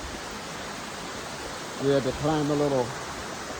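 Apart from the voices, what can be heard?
waterfall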